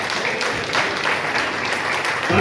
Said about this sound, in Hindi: कृपया जोरदार तालियों के साथ खड़े होकर हाथ उठाकर जो है स्वागत करें